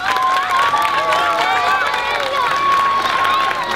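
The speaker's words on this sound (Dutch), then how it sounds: "Geef ze maar eens een hartelijk applaus" A school audience at the Albatros school's 60th anniversary celebration claps and cheers for former teachers and headmasters, a lively, dense crowd noise with voices calling out over it.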